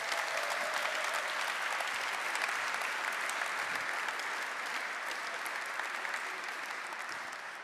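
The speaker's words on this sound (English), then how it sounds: "Let's give them another round of applause." Steady, dense audience applause fills a folk music gala hall, loud and continuous throughout before easing slightly at the end, with no talk over it.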